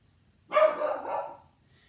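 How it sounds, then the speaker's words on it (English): A single short dog bark, close and fairly loud, trailing off into a brief yowl before quiet returns. "there's the doggy."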